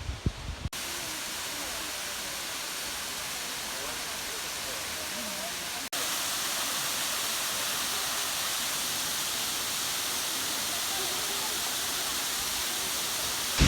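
Steady broadband roar of falling water from the seven waterfalls near Ushuaia, a constant hiss that jumps slightly louder partway through and continues unchanged to the end.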